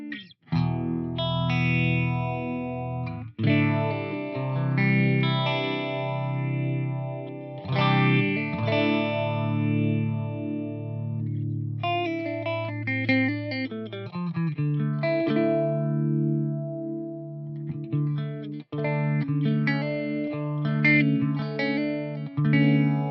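A clean electric guitar tone played through a phaser, chords and picked notes sweeping with a swirling, shifting shimmer, close and alone without any voices.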